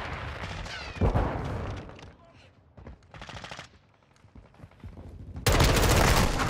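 Bursts of automatic gunfire in Modern Warfare 2 gameplay, with short rattling volleys, a loud shot, quieter gaps and a heavy sustained burst at the end, with a voice talking in between.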